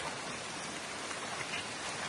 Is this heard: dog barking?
no